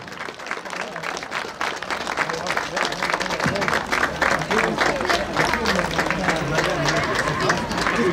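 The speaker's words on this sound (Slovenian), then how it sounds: "Dejte mu zaploskat." Show audience at a Slovenian cold-blooded draft horse exhibition in Šentjur claps steadily and loudly for a horse on a lap of honour, with crowd chatter and an announcer's voice mixed in throughout.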